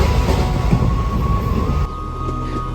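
An Indian Railways passenger train runs along a line near Sehore Junction with a steady, loud rumble of wheels on rails, then drops abruptly to a quieter, smoother hum; no voices.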